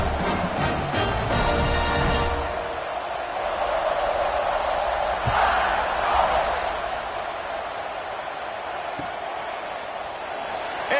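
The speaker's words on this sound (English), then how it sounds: "this crowd is buzzing after that last score" Stadium crowd at a college football game between Alabama and Marshall, a loud broad roar buzzing steadily before a kickoff, with rhythmic clapping early and a commentator talking over it.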